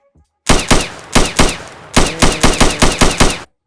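AK rifle fire in an Unreal Engine 5 third-person multiplayer shooter game: loud, close sharp shots in two rapid bursts, about four then seven, separated by a short pause, with no speech.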